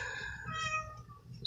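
A house cat meows close by, a few drawn-out mewing calls over a faint low background hum, then a brief sharp sound right at the end.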